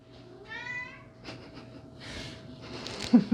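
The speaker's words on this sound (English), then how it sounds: "That's Winnifred the cat" A domestic cat meows once, fairly close and clear, in a quiet indoor room during a back-stretching yoga class, followed by soft breathing and small rustles.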